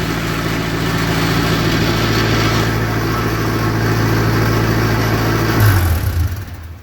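A vehicle engine runs steadily at idle during solid axle work, a low continuous rumble throughout before it cuts out near the end and falls quiet.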